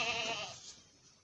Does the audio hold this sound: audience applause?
no